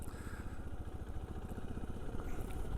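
Tom's motorcycle engine idling nearby, a steady low pulsing chug with light mechanical clatter that holds even and grows slightly louder toward the end.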